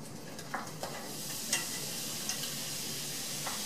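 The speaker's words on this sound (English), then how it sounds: "So these are going to get sauteed for 2 or 3 minutes." Onions and mushrooms sizzle steadily in butter in a hot pan with a soft, constant hiss, broken by a few light clicks and stirring taps.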